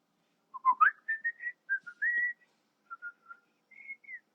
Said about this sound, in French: faut pas trop que je sifflote